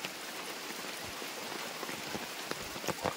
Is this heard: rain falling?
yes